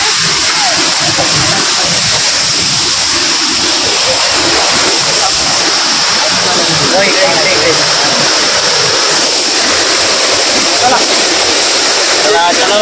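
Small waterfalls and streams along a trekking trail at Kalu waterfall, a steady broadband rush of flowing water running throughout with a few brief splashes, fairly close and constant.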